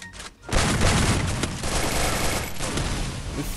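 Gunfire in a mobile shooting video game played on a handcam: a sudden dense volley of shots starts about half a second in and keeps up as sustained, loud rapid fire to the end, with no talk.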